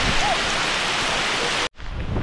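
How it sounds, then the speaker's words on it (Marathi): Heavy monsoon rain pours through forest on the Dudhsagar trek, a dense, loud, steady hiss with no gaps, cut off sharply by a brief silence near the end before the downpour resumes. "खरं लय बेकार पाऊस"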